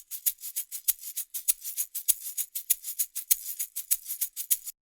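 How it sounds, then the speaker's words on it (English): A shaker loop plays alone in an Afrobeat beat, a crisp, bright rhythmic shuffle of steady hissy pulses repeating evenly throughout. "That's the normal shaker we know."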